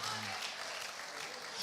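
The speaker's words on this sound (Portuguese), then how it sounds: "round of applause for Jesus. Applaud the Lord." A church congregation at a worship service claps together in a short, dense burst of applause, steady and moderately loud throughout.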